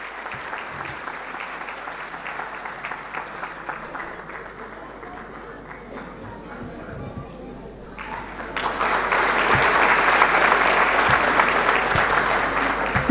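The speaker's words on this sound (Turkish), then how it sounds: "Alkışlarınızla şefimiz Sayın Onur Kıvılcım Soru'yu sahneye davet ediyoruz efendim" Concert audience at a Turkish folk music performance applauding as the conductor comes on stage, steady clapping that swells markedly louder partway through and stays strong to the end.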